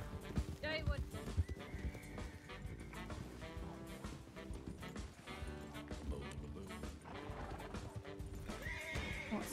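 A horse in the RedM Red Dead Redemption 2 roleplay game whinnies loudly, with hooves clopping, all mixed under busy game sound and voices talking.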